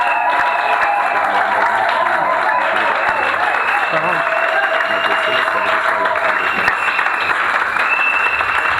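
At an evangelism and deliverance crusade, a congregation applauds and cheers for Jesus in a loud, steady, unbroken roar of clapping and voices that lasts throughout.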